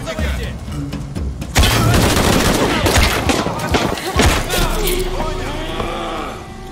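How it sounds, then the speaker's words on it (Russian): Video game gunfire in Shadow of the Tomb Raider, a loud rapid fusillade of shots and bursts that dominates the clip, with voices shouting over the shooting. "Я слышу выстрелы, что происходит."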